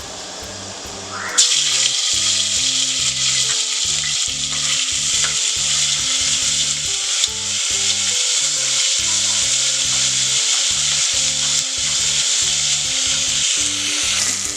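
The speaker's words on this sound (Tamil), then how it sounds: "எண்ணெய் சூடானோன்னா இஞ்சி பூண்டு பேஸ்ட்டு ஆட் பண்ணிக்கலாம்" Ginger garlic paste sizzling and frying in hot oil in a pan, a loud, steady crackling hiss that starts abruptly and runs continuously, with stirring scrapes throughout.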